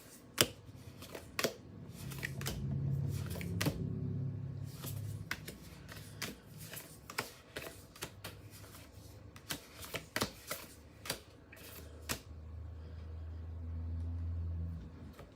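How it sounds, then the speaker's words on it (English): Tarot cards are shuffled and then laid down one by one on a surface, giving a brief riffling flurry followed by a run of close, crisp, separate slaps and taps at an uneven pace, with no talking. "let's go ahead and put down the cards."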